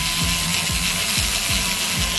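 A flat metal wedding band being sanded with sandpaper: steady gritty rasping with regular strokes about every half second, close and fairly loud, with no voices.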